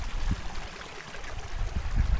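Rainwater running off in mild wet weather into a big catch basin and down a drain pipe, a steady close trickling and streaming flow with soft gurgles throughout.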